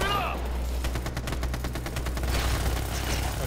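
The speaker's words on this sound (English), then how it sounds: "The one on the left is shooting at me." Rapid gunfire from the video game Ghost Recon Future Soldier, set in Moscow, Russia, crackles in a dense burst of repeated shots over a steady low rumble, with voices mixed in.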